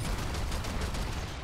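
Gunfire in the video game Evolve, a dense rapid burst of shots rattling continuously at close range, loud and unbroken for the whole moment.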